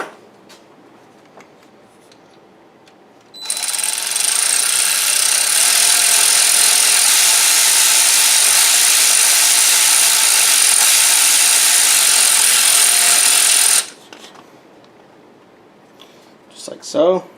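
A steady, loud high-pitched whirring, like a power tool, runs for about ten seconds without a break while an inline transmission filter fitting is tightened. The work area is quiet before and after it.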